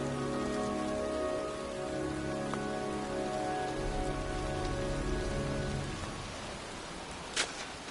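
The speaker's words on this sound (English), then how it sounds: "It's cold. It's raining." Steady rain falling on a surface in the video game Heavy Rain, a dense, continuous hiss with a faint low hum beneath and one brief sharp tick near the end, no voices.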